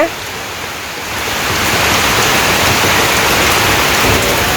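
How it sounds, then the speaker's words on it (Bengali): Heavy morning rain pours down in a village, a dense steady hiss of drops that swells after the first second and holds loud and even. "সকালবেলায় প্রচুর পরিমাণে বৃষ্টি হয়ে গেছে"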